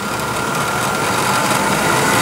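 A milling machine spindle spins at its top speed of about 4,255 RPM, giving a loud, steady high-pitched mechanical whine and hum throughout with no talking.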